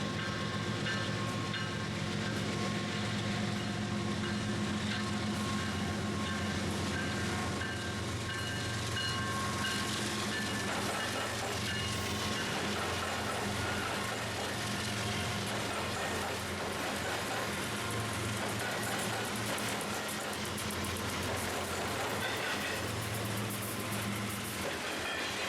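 A BNSF freight train rumbles past Joliet Union Station steadily at close range for a long stretch, its continuous roar and rattling wheels droning without a break.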